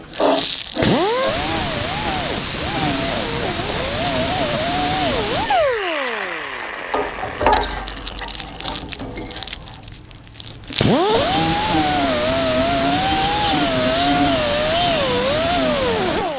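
An angle grinder's disc grinds a welded seam on a shortened steel valve cover for a 409 engine, a loud sustained whine that dips in pitch under load, pauses briefly mid-way, then spins up and grinds again.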